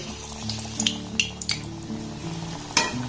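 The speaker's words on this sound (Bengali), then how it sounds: "এবার এটাকে আমি তেলের মধ্যে ছেড়ে দেব। গ্যাসের ফ্লেমটাকে লো রেখে এটাকে ভাজতে হবে।" Steady oil sizzling and frying as green tomato pieces fry on a low flame in a kadai, with occasional clinks and scrapes of a utensil against the pan, no talking.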